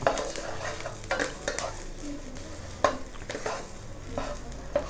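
Dried chilies dry-roasting in a pan with no oil while being stirred, for Isan-style jaew pla ra dip: scraping utensil strokes and clinks over a low, steady sizzle, close up, with no talk.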